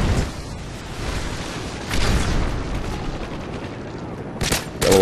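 Silenced gunfire in Modern Warfare 3 multiplayer: quick bursts of muffled shots in close succession, with a couple of sharp cracks near the end, up close and loud, mixed with a voice talking.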